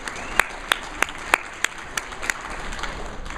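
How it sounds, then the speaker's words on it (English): Sparse applause from an audience at an opening ceremony, a handful of distinct sharp claps spaced about a third of a second apart over a steady murmur, moderately quiet. "Let's give him a round of applause."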